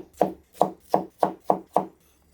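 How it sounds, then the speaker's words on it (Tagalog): Peeled taro (gabi) chopped on a cutting board: six crisp, evenly spaced knife strikes, close and clear, with no talking. "So, pagka nabalatan na yung ating gabi, ay hiwa-hiwain natin."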